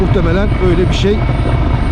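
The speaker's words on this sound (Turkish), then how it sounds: "Şu an adadaki helikopter pistine doğru yaklaşıyor." A helicopter descends toward an island helipad to land, its steady rotor thrum loud and continuous throughout while someone talks over it.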